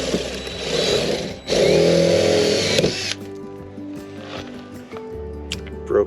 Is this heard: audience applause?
no